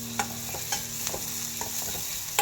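Garlic, onion and green chili paste frying and being stirred in a pan, with soft scraping strokes and a low sizzle at close range, no voices.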